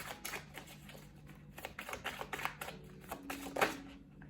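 Tarot cards are shuffled and drawn, a run of soft close riffling flicks and slaps coming in bursts, fairly quiet, with no speech.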